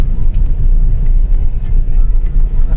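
A car drives through a right turn, its steady low engine and road rumble continuous and close for the whole stretch, with faint ticking sounds above.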